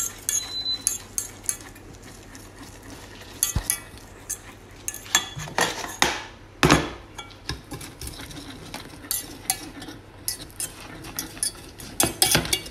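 A utensil scrapes and clinks against a metal pot in irregular strokes, close and fairly loud, as a cornstarch mixture for brioche is stirred.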